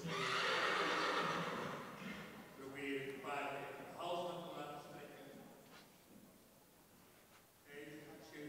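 Horses whinny loudly at an indoor arena during a Dutch stallion inspection, a strong neigh at the start followed by further calls, with a commentator talking over them.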